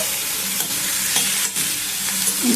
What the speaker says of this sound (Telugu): దాంతో పాటు వంకాయ ముక్కలు కూడా వేసేద్దాము.